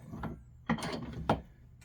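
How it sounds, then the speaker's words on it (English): A steel spring is set into a bench vise, giving three brief metallic clunks spaced apart, quiet and close. "I'll just put that in the vise"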